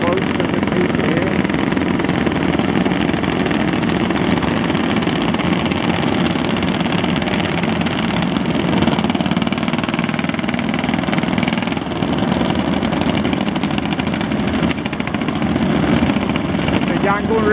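Engines of sampan boats crossing the Yangon River rumble steadily and continuously at close range, a dense mid-pitched drone with knocking texture that persists throughout.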